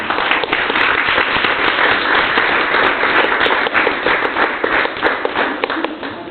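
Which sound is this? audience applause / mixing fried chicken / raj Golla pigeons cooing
audience applause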